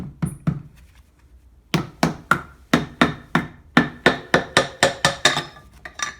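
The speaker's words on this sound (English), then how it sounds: "you may have to tap it with a hammer to knock it loose" Two light taps, a pause, then a run of a dozen sharp, evenly spaced hammer blows on a Polaris Ultra 680 snowmobile engine's cylinder head cover, knocking it loose, close and loud.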